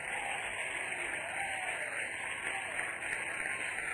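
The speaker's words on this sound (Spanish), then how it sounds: "Denle un aplauso al Señor" Church congregation applauding the Lord during a Spanish-language evangelical service, a dense, steady wash of clapping from a large crowd that fills the whole stretch at moderate level.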